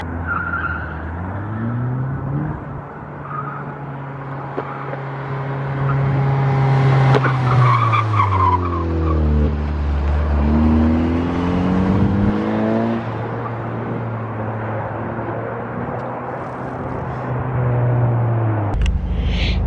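Car on a quick test run after a sway bar install, engine revving up and down through shifts as tires squeal and skid repeatedly, loud and close with no talking.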